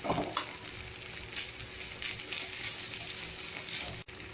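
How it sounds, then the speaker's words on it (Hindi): Dry green keema fries in a pan with a steady close sizzle, a few stirring scrapes near the start and throughout, moderately quiet. "इसको हम अच्छे से भूनेंगे।"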